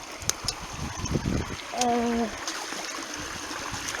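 A shallow, clear stream trickles over stones in an even, steady wash, with a brief tonal squeak near the middle and some handling bumps.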